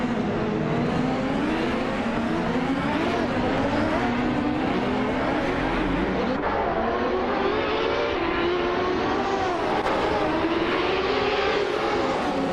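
Race cars in a video game race roar off the start together, engines droning and rising in pitch as they rev and shift, loud and steady throughout with several motors layered and no talking.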